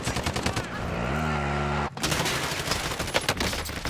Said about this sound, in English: what am I getting shot at?